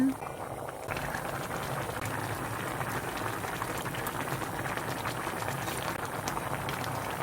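A spicy stew of bracken and yellow croaker bubbles vigorously in a pot over high heat, a close, continuous rolling boil with dense crackling and popping throughout.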